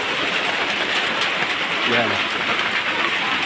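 Dense, steady heavy rain pouring down with a constant hiss over flooded ground, a person speaking briefly partway through.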